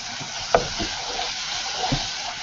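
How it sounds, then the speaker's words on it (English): Steady sizzling hiss of a condensed milk mixture frying in a pan, with a couple of brief clinks from stirring. "can you hear the sizzling noises?"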